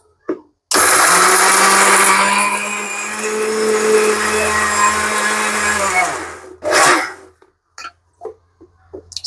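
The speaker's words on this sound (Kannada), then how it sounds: "ಈಗ ನಾವು ರುಬ್ಕೊಳ್ಳೋಣ." A mixer grinder whirs loudly while grinding chana dal with grated coconut into a masala. The motor runs steady for about six seconds, then winds down and stops, and a few soft knocks follow.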